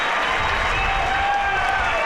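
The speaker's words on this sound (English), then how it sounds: "As the Kohl Center crowd comes to their feet, a standing ovation" The Kohl Center arena crowd rises in a standing ovation for a four-time state champion wrestler after a state final, with dense sustained applause and cheering, and an announcer speaking over it.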